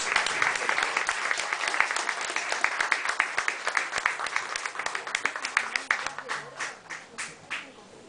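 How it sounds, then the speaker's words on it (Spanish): An audience at a poetry evening in a café arts space claps warmly, a dense burst of applause that thins out toward the end into a few scattered, separate claps. "Así que un aplauso para ellos."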